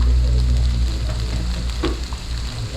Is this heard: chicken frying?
yes